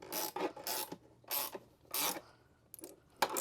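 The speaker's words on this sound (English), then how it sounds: "you can take your 13mm provided wrench and tighten things down" A 13mm wrench tightens bolts while mounting a Terra Firma Overland Summit roof top tent, giving short bursts of ratcheting and rasping metal clicks separated by brief pauses. The sound is close but fairly quiet.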